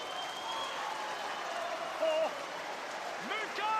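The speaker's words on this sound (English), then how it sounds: "When the action goes to our left, those Saints fans are erupting, aren't they?" St Helens Saints fans cheering and applauding at a rugby league match against Leeds, a distant, broad crowd roar with a television commentator talking over it.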